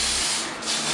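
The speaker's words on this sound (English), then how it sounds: "You literally spray from afar." Pro Line hair spray hisses out in one steady, close, fairly loud spray burst during a skin fade pompadour haircut, with a brief dip partway through.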